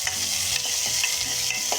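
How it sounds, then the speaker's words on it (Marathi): Bitter gourd stir-frying with turmeric and ginger, a dense close sizzle with light stirring scrapes running continuously through the short stretch. "थोडं लालसर होईपर्यंत परतून घ्यायचे."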